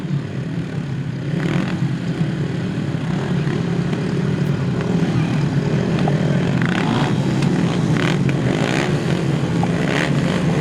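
Grasstrack racing motorcycles idle and rev together at the starting gate of a 2007 international floodlit meeting, a continuous loud engine drone held steady throughout with faint crowd noise in the background.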